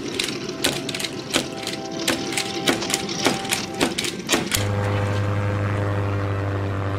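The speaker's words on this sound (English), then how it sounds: "Sonic, did you put fuel in the plane?" Propeller airplane in a Sonic cartoon, a rapid mechanical clatter of sharp repeated ticks that gives way to a steady, even engine drone.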